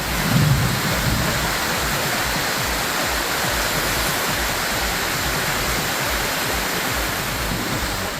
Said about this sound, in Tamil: திடீரென மின்னல் இடியுடன் பலத்த மழை பெய்தது.